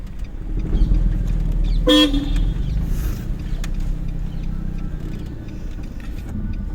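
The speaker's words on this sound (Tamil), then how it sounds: "பிரேக் பிடிக்கணும்ல, ஹார்ன் அடிச்சுருக்காங்க." A single short car horn toot sounds over steady traffic and engine rumble, fairly close.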